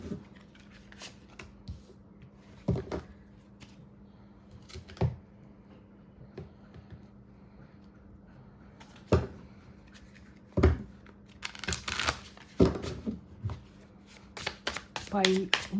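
Tarot cards shuffled from a deck in short, crisp bursts of riffling and flicking, spread unevenly over the stretch with a steady low hum underneath and quiet pauses between handfuls.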